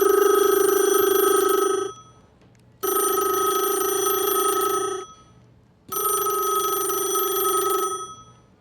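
A telephone ringing out after a number is dialed, three long bright rings of about two seconds each separated by short silences, steady and clear with no talk over it.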